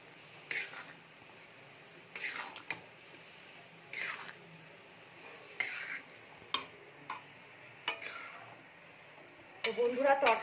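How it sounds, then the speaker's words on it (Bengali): Spices being stirred into an egg tadka curry in a pan, with repeated short scraping and clinking strokes of a spoon at irregular intervals, close by, plus a quiet sizzle underneath. "আর দিয়ে দেব একটু তরকার মশলা। ভালো করে মিশিয়ে দেব।"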